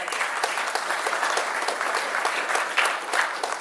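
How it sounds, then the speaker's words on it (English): A conference audience at a talk on Fedora for 64-bit ARM servers breaks into sustained applause. Dense, even clapping fills the room from start to finish with no gaps. "applause, please"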